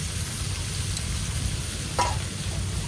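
Young jackfruit pieces, boiled with turmeric, fry in a pan with a dense, steady, close sizzle, broken by a faint stirring scrape about halfway through.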